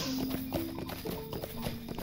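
Pig mount trotting in Lord of the Rings Online, quick even hoof taps in a steady rhythm under looping game music, close and moderately loud.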